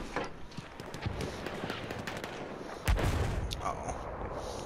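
A tank cannon in the Battlefield 1 World War I game fires one heavy, booming shot partway through, standing out over a steady background of distant gunfire and battlefield rumble.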